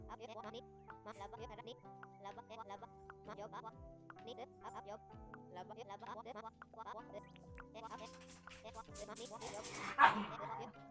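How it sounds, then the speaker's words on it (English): Dogs in the farming game Dinkum give short, repeated yips and barks over a looping melodic game soundtrack, with someone talking throughout and a brighter chiming effect near the end. "the dogs are barking at right at my"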